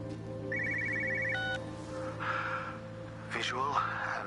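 Telephone ringing in the video game Everybody's Gone to the Rapture, one short burst of rapid trilling that cuts off, followed by faint ambient tones, a breathy gasp and a brief voice.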